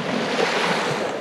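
Waves breaking on the north shore of Lake Superior, a steady broadband wash of surf with wind noise on the microphone, loud and continuous with no voices.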